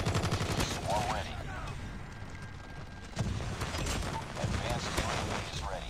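Holger machine gun in Call of Duty Mobile firing in rapid sustained bursts amid game effects, with a voice talking over parts of the shooting and a short pause before firing resumes.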